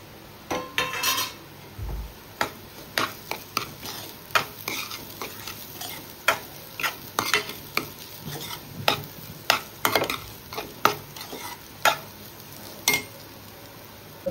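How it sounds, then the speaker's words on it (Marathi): Semolina cooked with banana is stirred in a pan with a spoon, giving repeated sharp metallic scrapes and clinks against the pan at an irregular rhythm over a quiet background, close and clear, no talking. "आता रवा परत थोड्या वेळासाठी शिजवून घेऊ, जोपर्यंत केळी पूर्णपणे त्याच्यामध्ये मिक्स होत नाही।"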